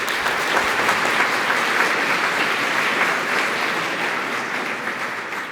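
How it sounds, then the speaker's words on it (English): A conference audience gives a warm round of applause welcoming a speaker to a programming talk on code styles, loud dense clapping filling the room and fading gradually. "Give her a warm welcome and round of applause."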